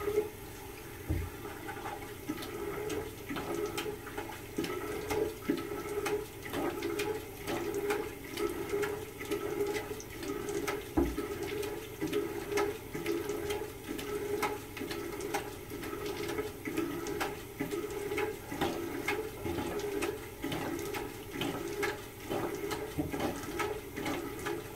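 Steady running water from a tap while a face is rinsed ahead of a wet shave, a continuous close splashing wash with small irregular spikes throughout, no voice.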